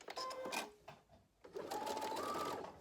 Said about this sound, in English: this is just a really short sew here